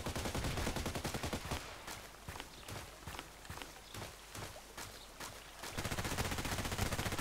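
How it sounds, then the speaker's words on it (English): Sniper rifle and other gunfire in the online shooter Contract Wars, a steady run of sharp, rapid shots crackling one after another at close range, with no voices. "The sniper is doing good work."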